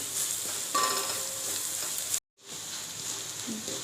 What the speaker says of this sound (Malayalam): രണ്ട് സ്പൂൺ നിറയെ പിരിയമുളക് പൊടി നല്ല മൂത്ത് വരണം